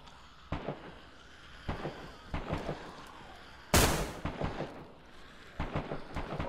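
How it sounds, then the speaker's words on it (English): Gunfire in a zombie video game rings out as a series of sharp, loud shots in irregular bursts, one especially loud blast midway, with no talk over them. "I hear you shooting."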